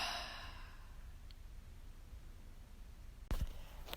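A forceful exhale in a yoga-style breathing exercise: a breathy rush of air at the start fades quickly into quiet room tone, followed later by a couple of short, sharp clicks.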